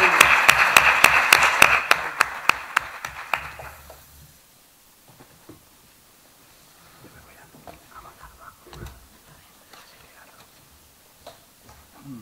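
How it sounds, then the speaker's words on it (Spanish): A conference audience at an urban skills festival in Alcoi claps in a brisk, rhythmic burst for about four seconds before it quickly fades, leaving scattered faint shuffles and a few quiet knocks in a hushed hall. "Un aplauso, por favor, a Fasim."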